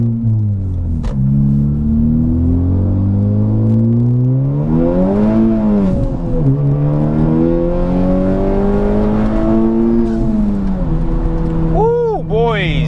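A Honda Civic Type R FK8 with a new intake pulls hard through the gears, its engine note rising and dropping with each shift, loud and close from inside the cabin, ending in a chirpy whistle.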